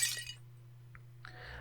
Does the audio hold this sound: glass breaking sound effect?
yes